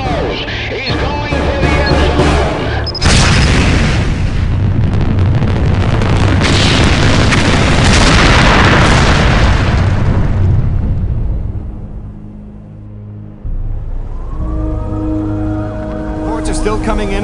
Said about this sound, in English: Still coming in about a massive explosion in Baltimore, Maryland.